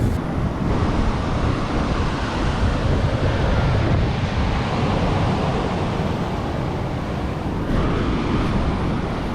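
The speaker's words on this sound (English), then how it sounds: "It's kind of like a black sand beach." Surf and wind on a black sand beach in Zambales, Philippines, form a constant broad roar, with waves washing in and gusts buffeting the microphone, and no voices over it.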